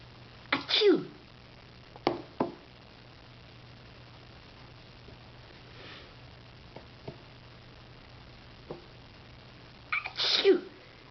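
A person faking sneezes in a quiet room: two loud, sharp sneeze bursts at the start and end, with smaller sniffs and clicks between them over a low steady hum.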